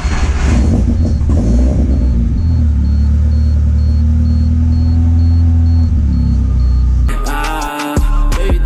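A VW Gol car engine, left sitting for two weeks, runs as a loud, steady low rumble for about seven seconds, then gives way abruptly to music.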